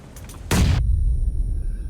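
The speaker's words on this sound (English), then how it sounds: "another beautiful grenade there" A loud grenade explosion in a shooter video game: a sudden close boom with a blast burst lasting under a second, then a lingering low rumble, with no voices.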